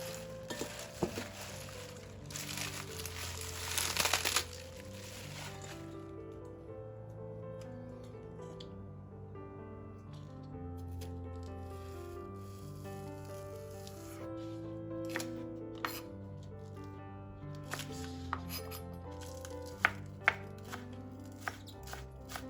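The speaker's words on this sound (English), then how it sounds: "for our spinach, we just need to break in half" Fresh spinach for egg drop soup snapped in half by hand, a burst of crisp, rustling breaks early on, then scattered light snaps, all over soft background music.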